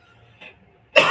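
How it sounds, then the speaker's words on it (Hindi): A single sharp cough bursts out near the end after a faint throat sound, from a person with a cold working in a TV repair workshop. "इस वीडियो को जल्दी से एंड करेंगे बिकॉज मेरी खांसी चालू हो गई फिर से।"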